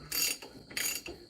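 A ratchet tightens the wheel bearing nut on a Compass, giving two quick bursts of close, crisp clicking separated by a short pause.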